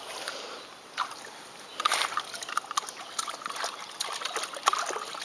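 Water trickles and splashes as it is poured into a large backyard pool, a soft, uneven run of close splashes and drips with quiet background noise.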